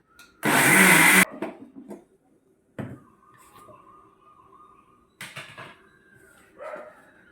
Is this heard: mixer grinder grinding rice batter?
yes